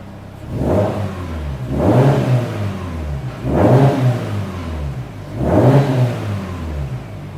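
A Woolman 2.5L engine on a G30-770 is revved four times in an even rhythm, each rev swelling from idle to a loud mid-pitched roar and dropping back, heard close up with no talking.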